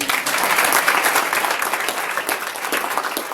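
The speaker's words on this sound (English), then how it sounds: "Deserves a round of applause." An audience at a scholarship awards luncheon breaks into a short burst of lively applause, many hands clapping close together in a full, busy roar that eases slightly toward the end.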